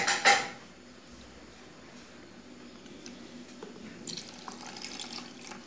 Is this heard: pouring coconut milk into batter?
yes